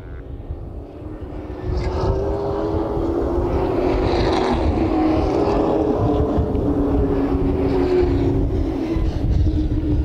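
A Superlate model off-road race truck engine drones loud and sustained at Willow Springs International Raceway, a steady roaring rumble that swells after the first two seconds and holds.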